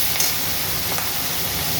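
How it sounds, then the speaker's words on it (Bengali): Shrimp frying in a pan, a steady close broadband sizzle with a couple of faint spoon scrapes, no voices. "চিংড়ি মাছটা ভেজে নিচ্ছি"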